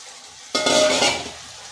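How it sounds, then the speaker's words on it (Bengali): Potatoes and cauliflower drop into hot spices frying in a pan, setting off a sudden loud sizzle with scraping and clinking that hisses steadily and then eases after about a second. "এরপর দিয়ে দিচ্ছি আলু আর ফুলকপিটা।"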